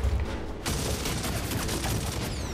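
Sustained rapid gunfire in the third-person shooter Gears of War: Ultimate Edition, a dense volley of rifle bursts rattling continuously and loudly after a brief lull at the start.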